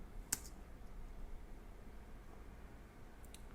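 A computer mouse clicks while editing in iMovie on a Mac: two faint, crisp clicks about three seconds apart over a quiet, hissy room background.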